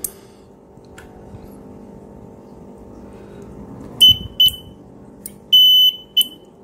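A buzzer on a homemade reed-switch magnetic anti-theft alarm sounds several short, loud electronic beeps in an irregular burst near the end, after a stretch of quiet low hum.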